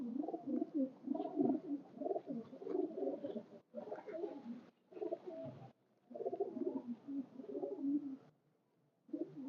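High flyer pigeons coo in soft, repeated bursts that sit close to the listener, broken by short pauses, with no talking over them.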